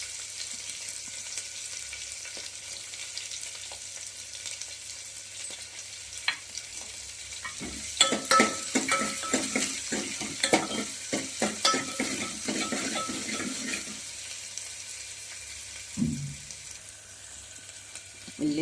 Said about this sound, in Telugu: ఉల్లిపాయ గోధుమ కలర్ వచ్చేలా వేగాలి.